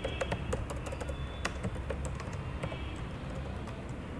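Rapid, uneven clatter of keys on a computer keyboard as table data is typed, close and steady throughout with no talking.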